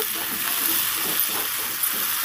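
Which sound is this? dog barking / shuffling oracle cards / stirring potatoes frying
stirring potatoes frying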